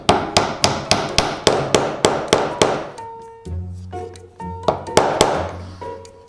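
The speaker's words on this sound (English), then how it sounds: "We're gonna hammer it there." A wooden mast for a simple toy sailboat is driven into its hole with a hammer: about a dozen sharp, ringing blows in a steady rhythm, then a pause with low tones and a few more spaced strikes, close and loud.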